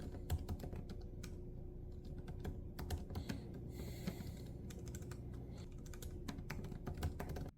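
Steady typing on a computer keyboard during a writing session, a continuous patter of close, quick key clicks with occasional louder strokes and no voices.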